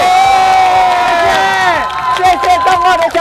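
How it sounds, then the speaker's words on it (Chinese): A large outdoor crowd of over 400 people at a street gathering in Changhua, Taiwan, cheers and applauds in a loud, continuous roar, with shouting voices rising and falling throughout. "超过400人，掌声鼓励"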